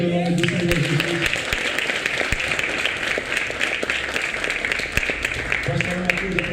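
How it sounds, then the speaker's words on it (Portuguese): A church congregation claps in sustained, dense applause during a sermon. Voices or tonal sound are heard briefly at the start and again near the end. "Você pode aplaudir o nome do Senhor Jesus."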